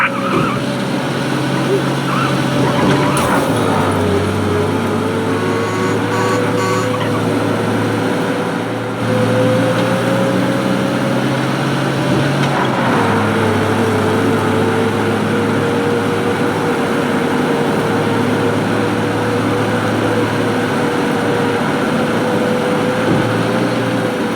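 A car escapes a police chase in the video game Mafia: Definitive Edition. The engine drones and revs, tires squeal and skid, and in-game voices and game sounds come through over the driving noise.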